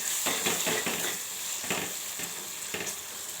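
Turmeric, chili powder and salt being stirred in a hot pan for gobi fry: a steady sizzle with repeated scraping strokes of a spoon against the pan, close and moderately loud, with no speech.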